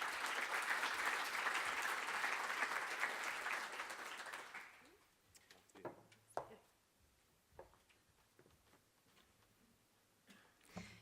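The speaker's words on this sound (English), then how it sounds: "please give her a warm round of applause." Audience applause fills the first four seconds at an evening public talk in Auckland, dense and steady, then breaks off into scattered claps, taps and faint room sounds.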